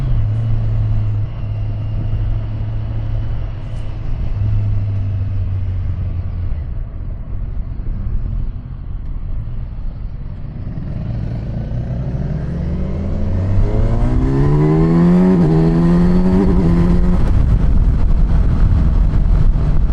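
A Kawasaki Versys 1100 motorcycle pulls hard in third gear, its engine note climbing steadily in pitch from a low rumble as it accelerates, loud and close against wind noise.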